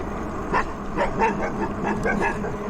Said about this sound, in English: This is one of our favourite dogs here. This guy likes to make a lot of noise at me.